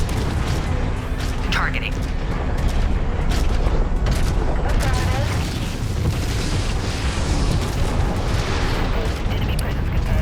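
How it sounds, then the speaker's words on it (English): Explosions and weapon fire from the mech combat video game Mechwarrior 5, a dense, continuous barrage of booms and mechanical rumble with brief voice callouts over it. "once we start getting some lasers and explosions flowing around here"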